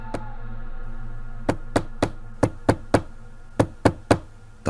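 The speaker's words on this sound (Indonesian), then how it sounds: "Terdengar seperti ada seorang yang mengetuk pintu rumah kami" Knuckles rap on a house door in irregular sharp knocks, about a dozen hits in short bursts of two and three, close and distinct over a faint background hum.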